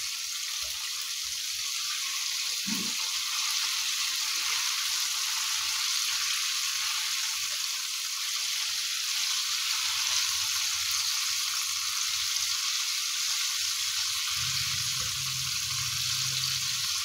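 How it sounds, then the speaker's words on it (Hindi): Chicken wings fry in hot oil over medium heat, a steady loud hissing sizzle running unbroken throughout, with faint low bumps of handling underneath. "दरमियानी आंच पर हम इसको फ्राई करेंगे।"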